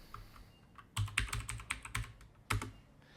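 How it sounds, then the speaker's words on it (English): Several quick keystrokes on a computer keyboard, clicking in short irregular bursts close by in an otherwise quiet room, with no voices. "So I'm going to type mirror."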